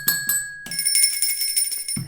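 A bell rung by hand, giving two quick clear strikes followed by a longer sustained ring, close and fairly loud, with a low thump at the end.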